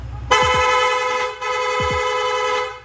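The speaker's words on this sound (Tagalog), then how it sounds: "Long press lang po natin yung horn switch, yung busina natin, magsusunod-sunod na po yan" A motorcycle horn blares in two long, loud honks close by, separated by a brief break, with faint engine rumble underneath.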